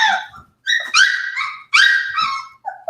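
Young puppies whimpering and yipping in a series of high, wavering cries, several calls overlapping at close range with short pauses between bursts.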